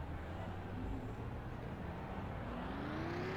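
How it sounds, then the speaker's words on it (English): Race car engines in the NASCAR Racing 2003 video game, a low, steady droning rumble with faint rising pitch as the engines rev, continuous and fairly quiet. "Drivers, start your engines."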